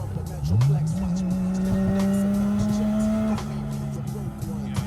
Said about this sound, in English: And currently driving home, it's still misfiring.